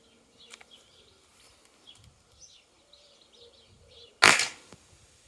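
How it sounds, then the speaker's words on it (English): A CO2-powered airgun fires a single loud, sharp shot that cracks out abruptly and decays quickly, with soft faint chirps and background noise before it. "Second one was when it goes bang."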